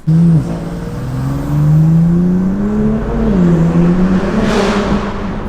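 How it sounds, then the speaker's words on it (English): A BMW F82 M4 Competition fitted with a new Valvetronic exhaust drones loudly under an underpass, its engine note climbing and dipping as the car accelerates and cruises, close and steady. "See what it sounds like under the underpass with the new exhaust"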